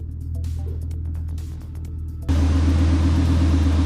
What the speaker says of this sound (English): waiting for the car to warm up, and the Fab Speed exhaust has the entire house shaking